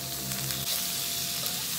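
Pieces of squash hit a hot pan of oil on a gas stove, setting off a dense, continuous sizzle of frying, close and steady, with no voices.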